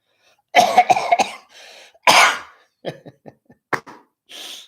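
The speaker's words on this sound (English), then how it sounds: "Cough, cough, cough." A close burst of several harsh coughs, then a pause and a few lighter coughs and throat clearing, with quiet gaps between.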